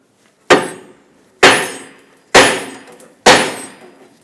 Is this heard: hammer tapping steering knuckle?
yes